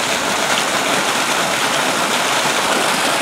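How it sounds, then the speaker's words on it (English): Rippling, boiling water running steadily close by, a continuous bright rushing wash with no pauses and no voices over it. "Look at the water ripple over there, people."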